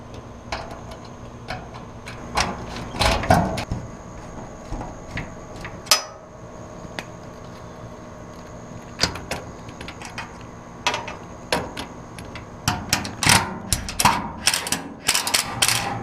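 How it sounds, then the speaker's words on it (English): Screws are started by hand on a Polaris 570 Crew midsize top, giving scattered sharp ticks and clicks of metal parts, with irregular bursts clustering toward the end over a quiet background. "We'll get our screw started here, and then we'll finish it out with the impact."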